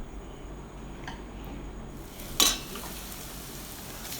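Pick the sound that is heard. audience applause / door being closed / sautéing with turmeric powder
sautéing with turmeric powder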